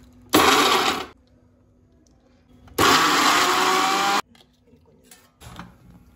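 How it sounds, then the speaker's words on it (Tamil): A mixer grinder blending coconut and tomato whirs loudly in two short bursts, the second one longer, separated by quiet pauses with faint clinks. "இதெல்லாம் தேங்காய் எல்லாம் சேர்த்து ஒரு மிக்ஸியில் ஒரு அடி அடிச்சுட்டு"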